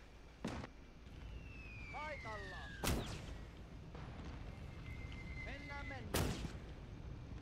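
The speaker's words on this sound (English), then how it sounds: "now they're firing smoke" Artillery in the Gates of Hell: Ostfront battlefield fires smoke rounds: three sharp booming shots spaced a few seconds apart, each followed by a whistling rising shell and rattling crackle, over steady ambient battle noise.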